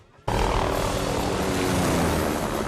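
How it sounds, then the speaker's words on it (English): A helicopter starts up inside a crashing plane in an action movie scene, its engine roar and rotor noise coming in abruptly after a brief quiet and then holding steady and loud to the end. "she and Bond hop into a helicopter inside the plane and fire it up"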